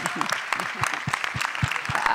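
Guests at a community banquet in Palo Alto applaud, a moderately close, steady patter of clapping hands filling the room with some murmuring voices underneath.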